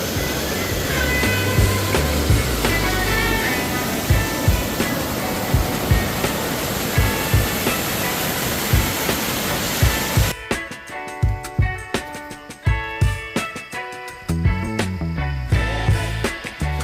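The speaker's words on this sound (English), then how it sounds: "Cool waterfall though." Rushing waterfall in Litchfield National Park, heard from its edge as a loud, steady broadband roar; around ten seconds in the roar gives way to a clearer, quieter scene with scattered knocks and sharp transient sounds.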